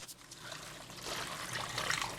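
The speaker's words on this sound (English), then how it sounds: "Boil some hot water, and you're gonna pour it over the oxtail" Hot water trickles and pours over raw oxtail in a home kitchen during cleaning, a soft, steady splashing stream that builds slightly louder toward the end.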